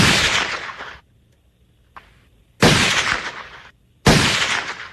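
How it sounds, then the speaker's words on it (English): Recorded gunshots play back during a radio sound-guessing game: three loud, sharp blasts with long rolling decays, separated by a short pause and with a faint click between the first two. "Those are gunshots."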